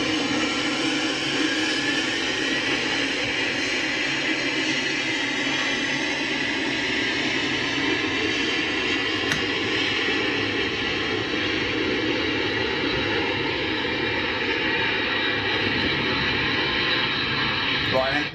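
Jet airliner departing down the runway, a steady broad engine roar heard from a distance that holds throughout, with someone talking over it.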